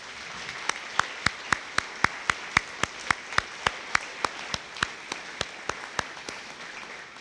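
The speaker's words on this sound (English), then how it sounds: "can you please give them a round of applause for the support?" Slow, evenly spaced claps ring out one after another, about twenty sharp beats in a steady rhythm, as an audience at a police academy graduation honors the officers and their families.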